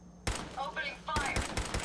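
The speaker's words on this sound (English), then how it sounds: "Opening fire." Gunfire in the video game Fallout 4, with bursts of shots in two clusters and a voice speaking between them.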